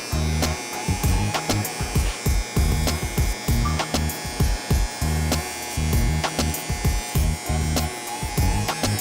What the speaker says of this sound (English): I'm hitting that same line with the Andis magnetic 1/16 guard.